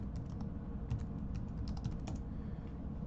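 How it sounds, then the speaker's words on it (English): Fast, steady typing on a computer keyboard up close, with quick irregular key clicks and no voices. "I'm actually Googling it right now so that I can have the information to type in."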